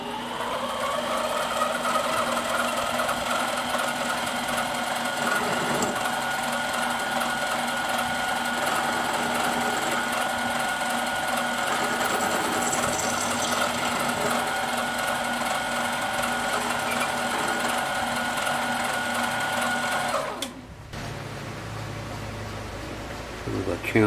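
A lathe facing the end of a stainless steel 14mm hex nut part, giving a steady, loud machining whir with a hum for about twenty seconds before it cuts off abruptly near the end.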